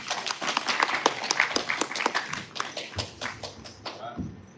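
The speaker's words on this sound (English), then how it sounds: "let's get another round of applause" An audience applauds at a music and arts event, steady dense clapping that swells and then slowly thins out over a few seconds, with a faint voice briefly audible underneath.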